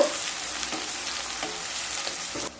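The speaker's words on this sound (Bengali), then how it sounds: "পেঁয়াজগুলোকে হালকা ভেজে নেব" Diced onions fry lightly in a pan for a capsicum potato masala, giving a soft continuous sizzle broken by periodic stirring scrapes.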